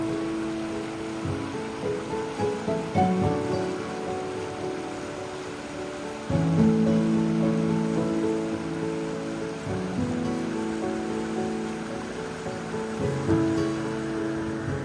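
Rain showers fall in the Bella Coola valley, a steady hiss of drops on surfaces that continues throughout with a few louder swells, with no voices.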